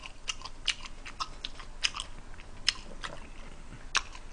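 Someone bites into and chews a thin, chewy-crusted bulgogi pizza up close, with a string of sharp, crisp crunches scattered irregularly over a soft, quiet mouth-sound background.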